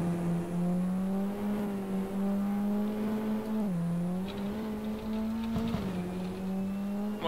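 A SEAT Léon Euro Cup 2014 race car engine in Assetto Corsa holds a loud, steady drone, with pitch dipping briefly around gear changes or lifts and a faint squeal near the end.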